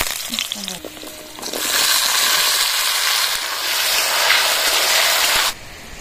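Cut potatoes drop into hot oil in a wok seasoned with nigella seeds and dried red chillies, and a loud, steady sizzle and hiss then fills the rest of the scene before cutting off sharply.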